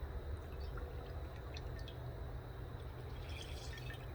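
Water trickles and drips faintly as it is poured over sweet pea seeds to soak them, a soft continuous wet sound with small splashes.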